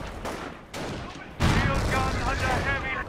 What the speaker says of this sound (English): Drop some artillery on these fools.